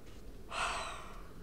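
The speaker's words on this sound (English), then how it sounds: "Yeah, I'm yawning." A single soft, breathy yawn from a man just woken up, rising and fading over about a second, quiet and close against a low background hum.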